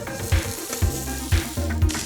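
Spicy chicken cakes coated in vegetable oil are placed into a frying pan, giving soft sizzling with a few short low bumps as each lands, close and fairly quiet, no talk.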